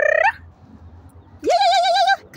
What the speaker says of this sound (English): go ahead, bird. Make some noise.